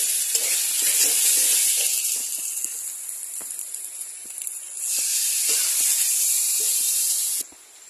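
Food sizzles and fries hard in a pan as spice-paste water is poured in, a loud steady hiss that dips, surges back up, then cuts off abruptly, with occasional stirring clicks and no talking.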